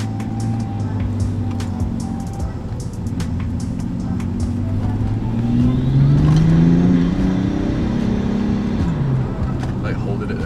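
A tuned 585 BHP BMW 535d diesel accelerates at part throttle, its engine drone rising and falling in pitch inside the cabin, with people talking over the steady motor noise.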